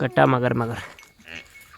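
Goats bleat in a rural yard, a wavering nasal cry up close, then a fainter second bleat, with a person speaking over the start.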